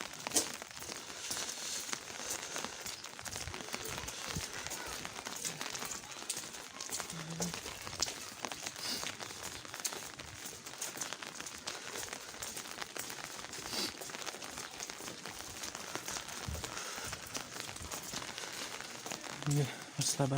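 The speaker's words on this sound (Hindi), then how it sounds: "बारिश है।" Steady rain falls outdoors in Swat while people walk past a hillside settlement, a dense wash of patter and crackle running throughout with voices speaking faintly under it.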